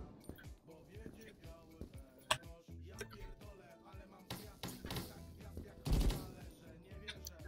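Gunfire in the Krunker video game crackles in rapid bursts and single shots, loud and uneven, with the heaviest burst near the end.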